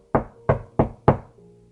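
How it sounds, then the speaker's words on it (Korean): Four firm knocks on a castle door in a children's fairy tale, evenly spaced and close, each fading quickly into a quiet room. "잭은 성에 가까이 가서 문을 두드려 봤어요."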